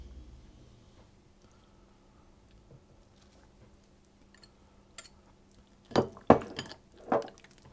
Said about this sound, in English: whisk that a little bit and break that up as well